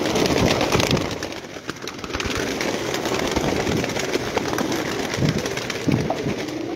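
Pigeons coo steadily on a rooftop loft, a soft rolling murmur of many birds close by over constant outdoor background noise, with no talk.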